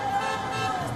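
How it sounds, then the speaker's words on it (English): Car horns honk during a street celebration in the capital of Tunisia, heard as a steady, fairly loud sustained tone over traffic and crowd noise. "cheering and honking."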